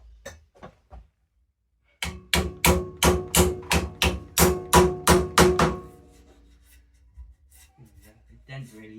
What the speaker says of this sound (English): soft blow hammer.